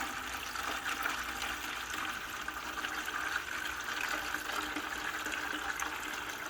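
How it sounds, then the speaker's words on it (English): Rainwater is poured into a bucket for earthworm tea, a continuous splashing pour that holds steady for several seconds with no talking. "So I'm pouring my rainwater in here."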